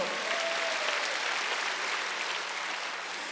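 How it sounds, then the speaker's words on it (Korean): A church congregation at a Wednesday worship service applauds together, a thick, even wash of many hands clapping continuously in a reverberant hall, with a brief faint voice at the start. "박수하세요"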